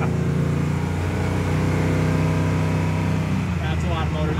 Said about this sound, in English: That's a lot of motor.